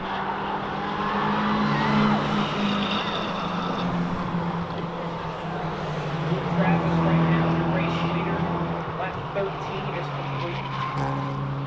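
Race cars roar continuously around a 4/10-mile speedway oval at Ace Speedway, their engines droning and whining together with some tire noise, under race commentary.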